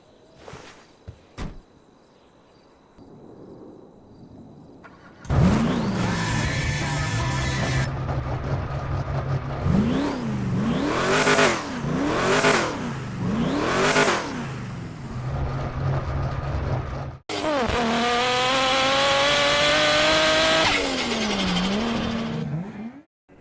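An Oldsmobile Series 60 in a driving game: a door clunk, then the engine cranks and catches, revving in repeated rising pulls, settling to idle, then a louder sustained acceleration with climbing gear whine.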